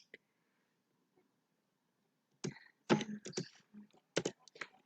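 Typing on a computer keyboard while entering code, starting in near silence and then turning into a close, uneven burst of crisp key clicks and taps.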